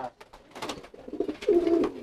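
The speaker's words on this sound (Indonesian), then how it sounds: "Ini giringnya kencang pisan, teman-teman tuh." Pigeons coo loudly and close in a dense loft of about 150 birds, with overlapping throaty calls that swell toward a strong final coo.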